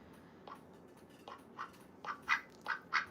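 A pet duck, a domesticated female, gives a series of short nasal quacks that grow louder and closer together, over a faint indoor background hum.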